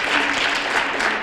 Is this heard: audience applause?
yes